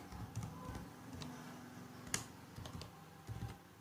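Keys tapped on a computer keyboard in quick, uneven clusters, a faint close-up clatter with one sharper click partway through, no talking.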